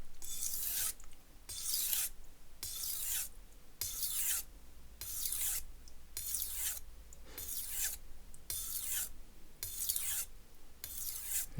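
Knife with an asymmetrical bevel drawn across a sharpening stone in a steady series of about a dozen evenly spaced rasping strokes, close and crisp, with no talking.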